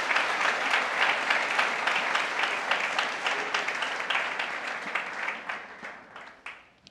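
A Spanish-speaking church congregation applauds during a sermon, full steady clapping from many people that gradually thins and fades out toward the end.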